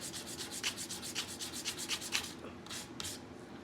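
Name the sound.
sanding wooden craft piece with sandpaper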